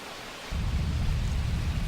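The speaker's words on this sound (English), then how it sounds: "one day, a terrible storm beset the village." Storm in the video game Grandia II: heavy rain and a deep thunder rumble surge in loudly after a short quiet start and roll on steadily to the end.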